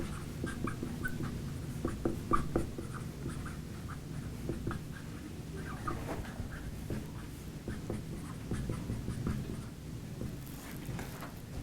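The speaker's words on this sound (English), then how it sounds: "So the first thing that you should do is write down the full equation." A physics equation written out by hand, continuous soft scratching of pen or pencil on paper with small taps and pauses, close and steady for several seconds with no speech.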